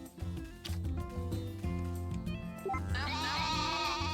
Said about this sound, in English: Oh my god, the sheep are so loud.